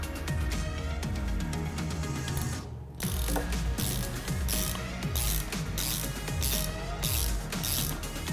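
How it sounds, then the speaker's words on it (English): Ratchet wrench tightening a nut on the back of a golf cart wheel hub, repeated close clicking strokes in a steady rhythm with a brief pause partway through. "hold the screw with the 5mm Allen wrench from the back side as you tighten the nut"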